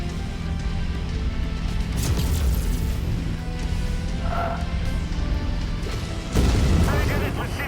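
Heavy weapons fire pounds a mech in the MechWarrior 5 video game, with repeated booming impacts and crashes over a low rumble and a louder hit near the end.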